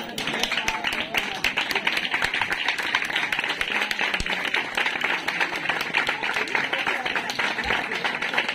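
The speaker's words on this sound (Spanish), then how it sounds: "rebem amb un fort aplaudiment la nostra fallera infantil" Sustained audience applause welcoming the children's fallera, Paula Lleida, at a Falla José Maestre 'El Cid' sketch presentation for the 2023 Falles: dense, steady clapping from a crowd, with voices mixed in.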